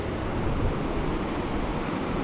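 Sea waves wash steadily at Boracay beach, a continuous broadband surf roar with no distinct breaks, fairly close and even in level, with no voices.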